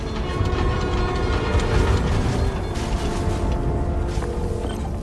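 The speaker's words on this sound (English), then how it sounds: "Come on, trusty New York subway." A New York subway train in the video game Spider-Man: Miles Morales rumbles loudly and continuously, with heavy low roar and rattling metallic clatter throughout, no voices.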